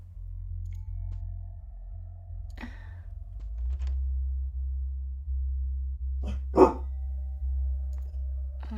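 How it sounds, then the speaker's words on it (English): A dog gives a few short, scattered barks indoors over a constant low electrical hum, with one sharper, louder bark standing out. "Hey Jack, what are you barking at, sir?"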